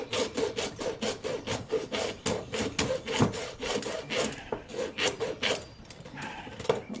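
A hacksaw cuts through material in quick, steady back-and-forth strokes, each a raspy scrape, close and fairly loud, with no talking throughout.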